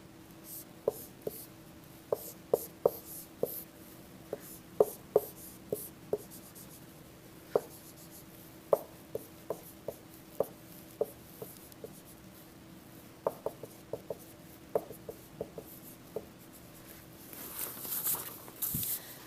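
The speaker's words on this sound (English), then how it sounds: "let me draw a diagram again" Pen strokes from drawing a physics diagram of particles by hand, heard as sparse, sharp, close ticks and scratches at an irregular rhythm with quiet gaps between them.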